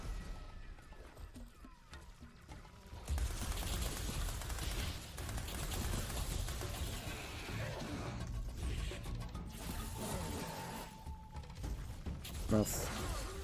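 Rapid gunfire and mechanical clatter from the rogue-lite co-op platformer Fury Unleashed, a dense loud stretch of shots with game effects that keeps going after a quieter opening.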